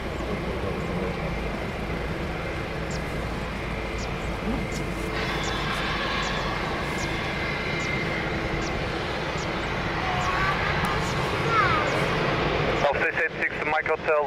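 An aircraft taking off at Lisbon Airport, its engine roar a broad, steady distant rumble swelling slightly toward the end, beneath a radio voice talking over it.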